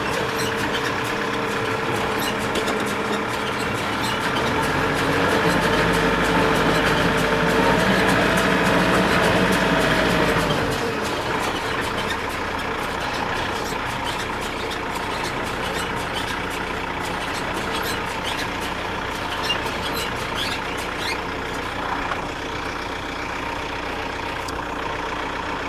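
A John Deere 336 hay baler runs steadily, its engine and machinery producing a continuous mechanical drone. A heavier, louder stretch in the first ten seconds then settles into an even churn.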